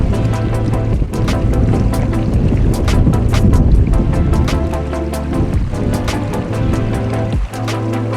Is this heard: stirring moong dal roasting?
no